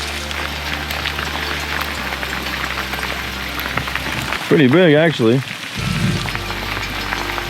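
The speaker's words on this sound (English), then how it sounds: "Check it out, freezing rain, great." Freezing rain patters steadily onto a pot outdoors, a continuous close hiss of drops, briefly interrupted by someone speaking before the pattering resumes.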